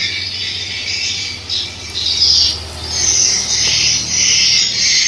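Recorded swiftlet calls play through a speaker in a low-ceilinged swiftlet house, a continuous, loud, high chirping twitter in pulsing waves over a faint low hum.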